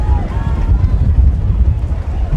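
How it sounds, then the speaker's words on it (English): Strong wind buffets the microphone at a high school football field during an IMG Academy at Lone Peak game, a loud continuous low rumble with faint announcer-style talk beneath. "I'm surprised the football's staying up with how windy it's been."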